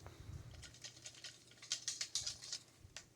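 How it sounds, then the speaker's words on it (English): A canister holding small cards is shaken, producing quick, rapid rattling patter in bursts, faint and close, with no talk. "Give it a nice little shake."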